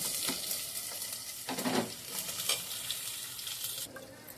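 Vegetables sizzle in a pan as tomato, coriander and bottle gourd are added, with a soft, constant frying hiss. Occasional scrapes and clatters of a spatula stir through it, and no one speaks.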